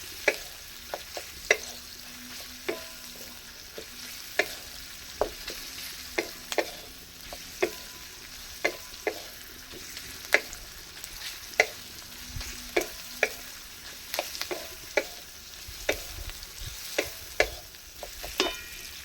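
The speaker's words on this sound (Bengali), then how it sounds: "লাল লাল করে ভেজে নেবো পেঁয়াজটা" Onions fry in a little oil in a pan until browned, a soft steady sizzle punctuated by frequent sharp spatula clicks and scrapes at an irregular rhythm, close up.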